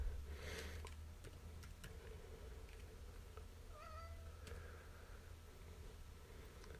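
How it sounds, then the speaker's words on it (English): A cat meows a few times, faint and a bit distant, over a steady low hum and background noise. "can you hear kitty cat meowing in here?"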